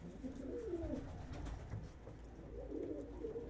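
Soft, low cooing of pigeons repeats steadily against a quiet, slightly noisy background.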